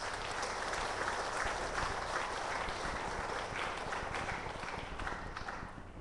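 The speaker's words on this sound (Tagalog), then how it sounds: "Pumalakpak ka, pumalakpak ka." Dense, steady applause-like noise fills the whole stretch, many hands clapping at once with no pauses, fairly loud and continuous.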